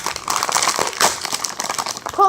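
A crinkly popcorn bag, caramel flavor, is pulled open by hand, giving a steady run of close plastic crinkling and crackling over about two seconds, with voices talking faintly underneath.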